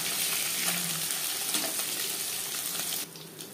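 Puti fish fry in a hot kadai with a constant sizzling hiss and scattered crackles, close up, before the sizzle drops sharply to a quieter hiss near the end.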